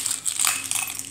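Keys jingle in a handbag, a quick bright metallic clinking rattle, close and alone without speech.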